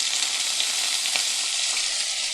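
Chicken liver goes into a pan of sautéed vegetables and sizzles steadily and loudly, a close, even hiss of frying with no talking.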